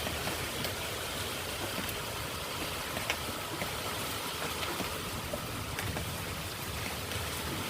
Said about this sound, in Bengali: ফাইনালি আমাদের এইখানে বৃষ্টিটা হচ্ছে।